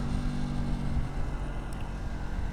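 A Yamaha MT-03 motorcycle with about 18,000 miles gives a steady low engine drone while riding, mixed with rushing wind noise, close and continuous throughout.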